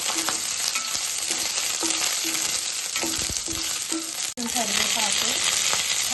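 Cashews, slit green chillies and curry leaves sizzling and crackling steadily in hot oil in a home kitchen, with occasional stirring scrapes and a brief pause before the frying resumes.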